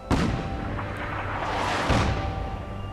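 Artillery fire in the video game Fallout 4 Far Harbor: a heavy boom at the start and a second one near the end, each followed by a rumbling, loud roll with no talking.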